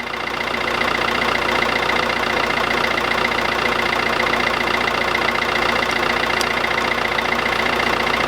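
A van engine idles steadily in freezing cold weather after being jump started from a dead battery with a GREPRO jump starter power pack, a loud, continuous, even rumble with no talking.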